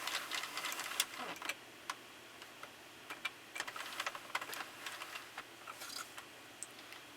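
A Sentro knitting machine cranked by hand while knitting Bernat Forever Fleece yarn, giving faint, irregular clicking and ticking of the needles and crank under a quiet room hum, with no talking.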